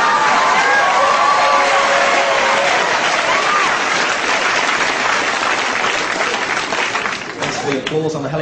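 A comedy audience breaks into loud, sustained applause and cheering, a dense wash of clapping that holds steady for several seconds and then thins toward the end.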